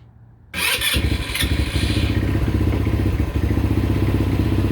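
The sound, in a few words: Tao Raptor 200cc ATV engine starting with choke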